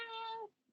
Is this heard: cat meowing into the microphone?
yes